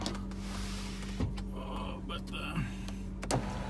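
Electric sunroof motor on a high-mileage 2006 BMW 325xi E90 running with a steady whine inside the cabin in the rain, broken by a few clicks and thumps.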